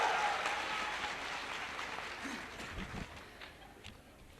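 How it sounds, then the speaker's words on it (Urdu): An audience at a student event applauds steadily, a dense wash of clapping that slowly fades over a few seconds. "تالی بجاؤ."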